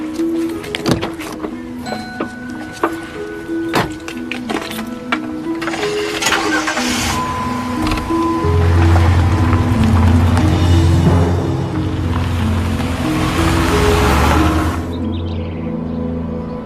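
A car engine starts and the vehicle pulls away, a steady mid-low engine drone building and running for several seconds, with a whirring power-window sound early on and some background music layered over it.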